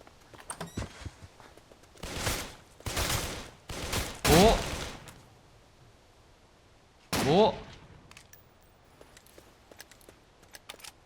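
Bursts of gunfire in the zombie survival game Darkest Days, several loud broadband volleys in quick succession followed by one more after a pause, with someone talking between shots.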